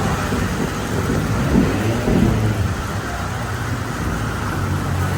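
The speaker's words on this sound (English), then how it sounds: "That is thunder." Low thunder rumbles in the distance at Snetterton circuit, swelling and fading over steady rain noise.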